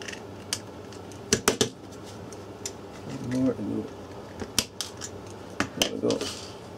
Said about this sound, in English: Get all the screws out first.